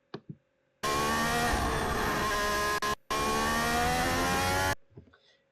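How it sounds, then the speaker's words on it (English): A car engine in fourth gear revs up hard and loud twice, a sustained roaring rise broken by a brief gap, with faint voice fragments before and after. "You should have heard there the sound of the engine increasing as the accelerator was being pressed."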